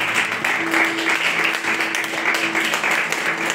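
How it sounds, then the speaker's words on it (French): A church congregation applauding to acclaim the Lord, steady rhythmic clapping from many hands at close range, continuous throughout with a faint sustained tone in the background. "Est-ce que tu peux acclamer le Seigneur?"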